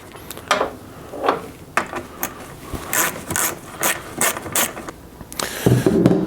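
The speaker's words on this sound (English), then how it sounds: "it looks like these are going to be a 10mm socket for these two" Ratchet wrench with a 10mm socket clicks in quick bursts while loosening air filter box bolts on a Jeep Wrangler, with several short rhythmic runs of ratcheting and small clunks close by.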